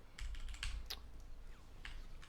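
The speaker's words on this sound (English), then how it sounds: "We just hear him bottoming out the key." Computer keyboard keys bottoming out during typing, a few quick clustered clicks and clacks close to the mic over a steady low background hum.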